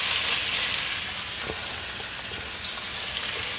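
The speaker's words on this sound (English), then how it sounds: "You get that sizzle?" A constant bright sizzle of crawfish searing in hot olive oil crackles close by, steady throughout with a few soft pops and no talking.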